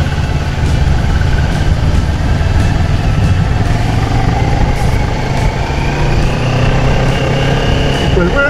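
A 2023 CFMoto 650 MT motorcycle engine drones steadily during a road test ride, loud and continuous with wind rush and traffic noise around it.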